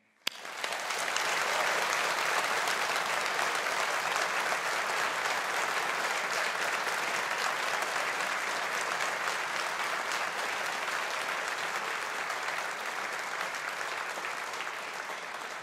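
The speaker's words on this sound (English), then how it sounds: "Let's all show our appreciation in a collective round of applause for our alumni." Sustained applause from a large audience honouring graduating alumni at a Faculty of Humanities graduation ceremony, dense steady clapping that starts abruptly and holds loud for the whole stretch with no voices over it.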